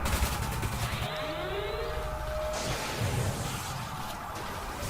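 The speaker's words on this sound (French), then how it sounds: "On prend la mitrailleuse." A spider tank's machine gun fires in the Watch Dogs video game, a dense, continuous rattling burst layered with whooshing and crashing effects at a steady loud level.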